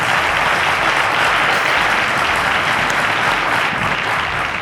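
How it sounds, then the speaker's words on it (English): Dense, loud audience applause for the junior category first runner-up at a televised math competition final, a continuous wash of many hands clapping without a break and no talk over it. "a round of applause to Oreofe Daniel"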